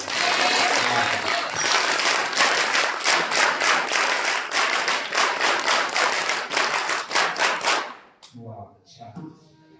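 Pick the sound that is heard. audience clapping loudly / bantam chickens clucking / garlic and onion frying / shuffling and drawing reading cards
audience clapping loudly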